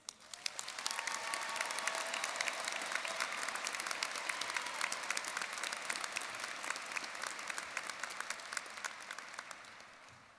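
A large audience at a university commencement ceremony breaks into sustained applause, many hands clapping in a dense, even wash that swells quickly and runs for about ten seconds before tapering.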